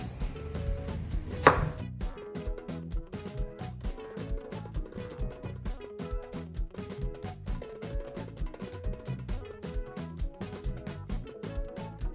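A knife chopping potatoes into chunks on a cutting board, with steady rapid thuds repeating close by for many seconds and one louder clatter near the start.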